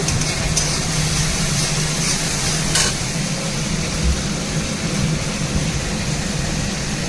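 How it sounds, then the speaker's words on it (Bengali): Onions fry in a pan with a steady, dense sizzle close by, and a few louder crackles and stirring scrapes break through now and then. No one speaks. "পেঁয়াজটা ভেজে নিচ্ছি।"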